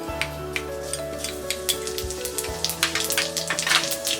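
Cumin seeds dropped into three tablespoons of hot oil in a pan on a gas stove, a close, steady crackling sizzle with scattered pops over a low background hum.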